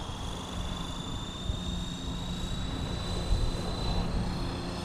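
A Blade Fusion 360 3S RC helicopter's rotor spools up with a steady, whining high-pitched tone over a continuous motor buzz, fairly close and constant in level.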